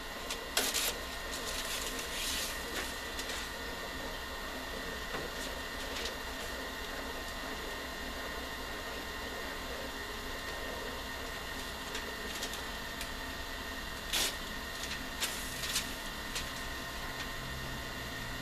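A voting unit's built-in printer runs off report copies at closing time: a faint, steady mechanical whir with occasional light clicks, alone and without speech.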